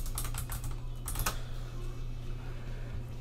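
Keys clatter on a computer keyboard in quick bursts of clicks, then taper into a steady low hum as someone types a command into a Fortnite lobby bot server.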